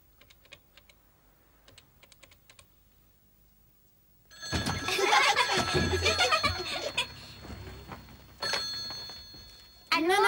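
A household telephone bursts into loud, bright ringing after a quiet stretch with light tapping and clatter, the rings coming in separate bursts near the listener.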